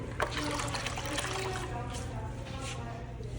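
Running tap water while hands are washed after glazing pottery, a close steady splashing trickle, with a voice talking over it.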